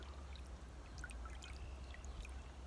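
A salted muskrat hide is lifted from a salt water bath, giving a steady soft pour and trickle of dripping water with light splashes over a low background hum.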